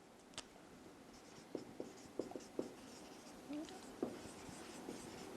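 Handwriting during a chemistry lesson on carbon-chain numbering: faint pen strokes and taps on paper, short scratchy bursts at an uneven pace, quiet under a steady room hiss, no talking.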